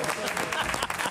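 An audience claps for a police union president on a Greek talk show, a dense, even burst of applause with a voice speaking over it.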